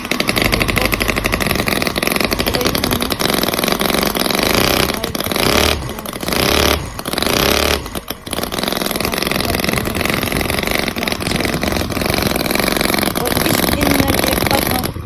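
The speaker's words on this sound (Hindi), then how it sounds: "आओ ये देखो स्टीम इंजन" Model V-twin gasoline engine running, a loud, close, continuous buzzing roar with brief dips and rev changes, with no talk over it.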